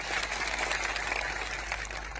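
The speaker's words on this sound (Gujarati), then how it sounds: "તાળીઓ પાડી લો." Crowd at a political rally applauding police personnel on duty, a steady wash of clapping from many hands lasting a couple of seconds, moderately loud with no voices over it.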